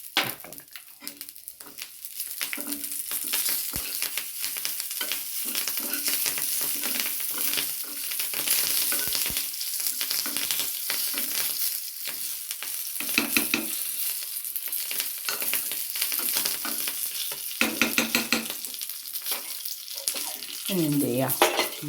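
Curry leaves and dried chilies crackle and sizzle in hot oil for a Kerala koottucurry, a loud, dense, continuous frying hiss with occasional stirring scrapes in the pan.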